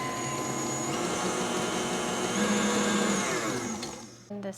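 Electric hand mixer whirring steadily as an egg is beaten into cookie batter in a bowl, a continuous close motor hum that winds down and stops at the end.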